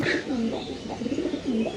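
Several pigeons coo nearby in a continuous, overlapping burble of low rolling calls, fairly loud and close.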